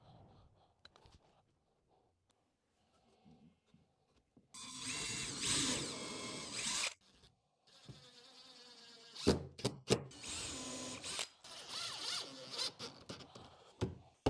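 A power driver sends screws into a cedar planter bench in two bursts: a sustained whirring run, then a series of short, sharp spins after a quiet gap.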